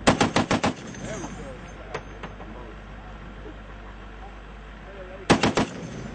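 Machine gun fires at targets on a range, a rapid burst of about six loud shots at the start, a quiet lull with a couple of distant pops, then another fast burst near the end.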